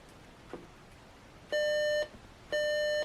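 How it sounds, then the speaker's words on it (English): An RCA clock radio alarm sounds two loud electronic beeps, each lasting about half a second and spaced a second apart, clear and close with quiet gaps between. "Now at 12:51, the alarm should go off"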